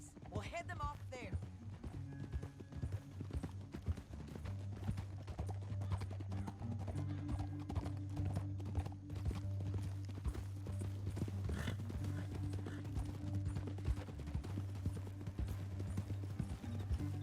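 Horse hooves clip-clopping in a steady galloping rhythm in the Western game Red Dead Redemption 2, set under a sustained low musical drone with brief bursts of other noise near the start.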